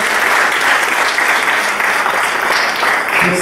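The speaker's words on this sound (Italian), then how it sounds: "fare un applauso a questi due ragazzi" An audience at a book presentation in Italy applauds two boys, loud, sustained clapping from many hands filling the room evenly from start to finish.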